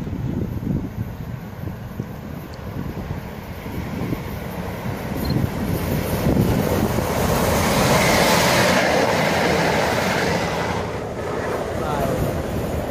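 A Great Western Main Line passenger train rumbles past close by at Langley, swelling to a loud broadband roar midway with wind buffeting the microphone, then easing slightly toward the end.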